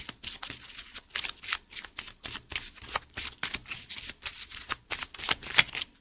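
A Butterfly oracle card deck is shuffled by hand in quick, rhythmic bursts of riffling and slapping, each lasting a fraction of a second with brief pauses, close and crisp.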